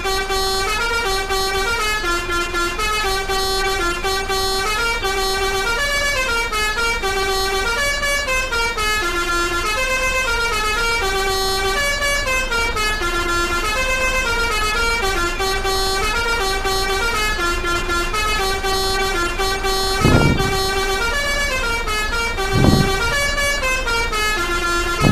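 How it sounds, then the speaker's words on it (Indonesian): A bus horn in the Bus Simulator Indonesia game plays a steady, loud, tonal musical horn melody that runs continuously without talk, broken near the end by two brief thumps. "Dan untuk klakson tiganya."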